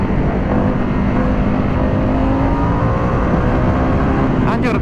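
Harley-Davidson Pan America 2021 Special adventure motorcycle accelerating on the road, a loud steady engine roar with heavy wind rush throughout and a voice briefly speaking near the end.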